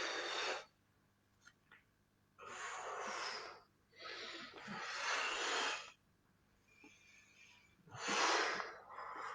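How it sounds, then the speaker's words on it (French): Deep breaths during a stretching and mobility workout, several long airy exhales and inhales in an uneven rhythm, heard close and alone with quiet pauses between them. "Soufflez bien et ramenez"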